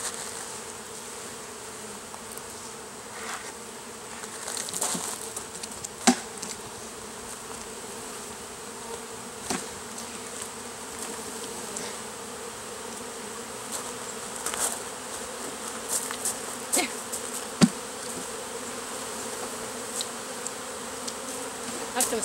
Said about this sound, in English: there's quite a few bees out here